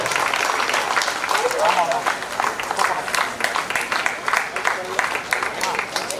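Many hands clap steadily at a residents' association annual general meeting prize giving, an even, sustained patter at moderate loudness with chatter and voices mixed through.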